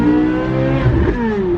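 A Chevrolet Corvette C8 Z06 engine and exhaust under hard acceleration, a loud, continuous high-revving wail with rising tones.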